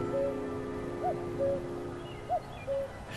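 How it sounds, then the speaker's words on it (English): A common cuckoo calls on Dartmoor moorland, repeating its two-note cu-ckoo about three times at a moderate distance over faint outdoor background noise. "you can be in no doubt that this is a cuckoo."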